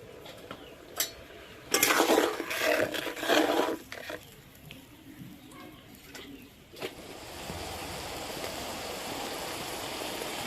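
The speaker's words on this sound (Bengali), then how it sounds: "ঝোল ফুটে গেছে।" Fish curry gravy for bhola fish boils in a pan with a steady rushing, bubbling hiss that grows fuller toward the end. A few utensil clinks and scrapes come through early on.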